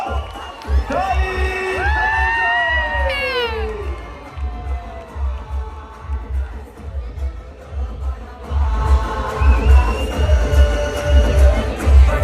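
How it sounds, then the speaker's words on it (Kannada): A large crowd at a stage program in Mysore cheers, whistles and whoops loudly as the guest Dolly Dhananjay arrives, and the noise swells again toward the end. "ಅವರ ಜೋರಾದ ಚಪ್ಪಾಳೆ ಮೂಲಕ ಅವರ ವೇದಿಕೆಗೆ ಅತ್ಯಂತ ಪ್ರೀತಿಯಿಂದ ಬರಮಾಡಿಕೊಳ್ಳೋಣ."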